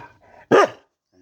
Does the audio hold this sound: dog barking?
yes